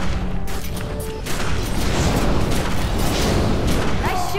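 Sustained gunfire and booming blasts in The Secret World, a loud, dense barrage with no pauses, rolling on continuously under agitated in-game voices.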